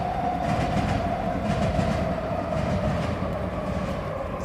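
A Vancouver SkyTrain passes near the False Creek seawall, a steady rolling rumble with a sustained mechanical whine and faint track clatter, continuous and fairly close throughout, with no talking.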